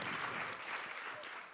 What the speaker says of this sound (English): ladies and gentlemen, a big applause for our amazing panel